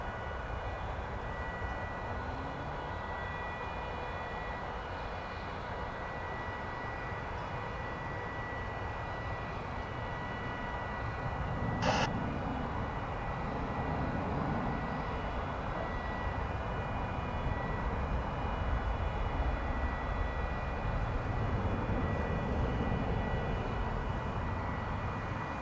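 An American Airlines jet at DFW Airport produces a steady, loud engine roar that swells slightly as the aircraft passes, sustained throughout with no voices.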